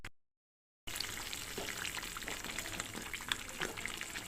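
Cashew curry simmers in a pan for pulka, a steady soft bubbling sizzle with faint pops after a brief silence, close by and with no talking.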